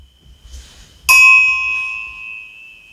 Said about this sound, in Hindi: इसलिए मंदिरों में घंटा होता है।